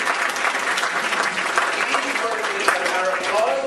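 An audience breaks into sustained applause, a dense, even wash of clapping that holds steady throughout without pause, with a voice faintly audible beneath it.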